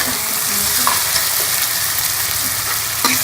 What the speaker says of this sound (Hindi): हमें मसाले को जो है वो अच्छी तरह से भून लेंगे